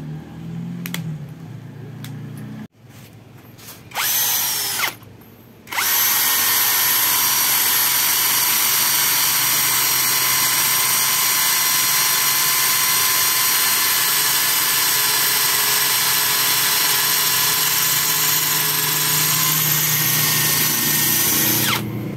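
A 13 mm cordless drill with an auto-lock chuck bores into very hard stone, not just cement. After a few short starts and stops, it settles into a long, loud, steady whine that runs to the end.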